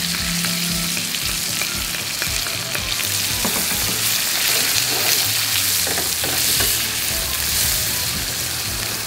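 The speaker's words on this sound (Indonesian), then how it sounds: "Kita tumis sampai harum." Shallots with galangal, bay leaves and lime leaves are sautéed in hot oil, giving a loud, steady close sizzle broken by frequent scraping stirs.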